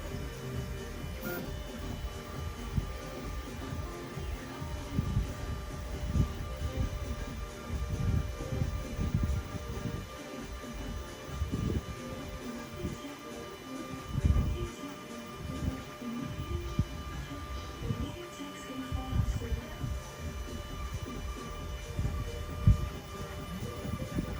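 A Voron 3D printer fitted with Tap nozzle probes runs a probe calibration, with steady stepper-motor whirs and soft repeated mechanical taps as the toolhead moves up and down, close and continuous.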